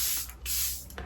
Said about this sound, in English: So is the Charlotte Tilbury setting spray.